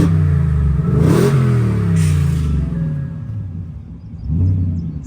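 2023 Ford Raptor R truck with its engine rumbling close by, a deep throaty growl that swells in a rev, eases off and rises again briefly.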